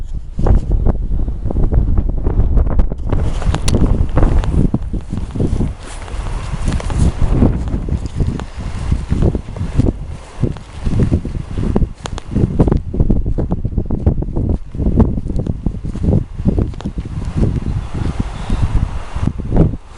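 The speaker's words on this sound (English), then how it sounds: "If the wind is a bit loud, I apologise" Strong gusts buffet the microphone throughout, a loud rumbling roar that swells and dips in irregular waves, with no talking, outdoors in Annagry, County Donegal, Ireland.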